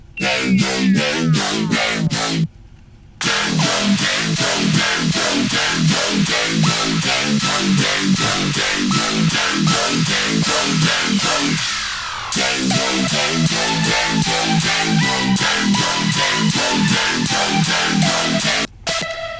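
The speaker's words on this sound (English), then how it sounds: "really heavy bass, and a lot of cymbal work, more hi-hats and rides" Loud melodic dubstep with heavy bass and busy cymbal, hi-hat and ride patterns, driving rhythm, with two brief dropouts into silence.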